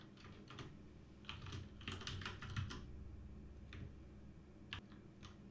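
Quiet, close typing on a computer keyboard comes in irregular clusters of key clicks, with a denser flurry in the middle and sparse taps after it.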